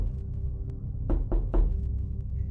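Two sharp raps land on a bedroom door, closely spaced, plus a third fainter knock, over a low ambient hum.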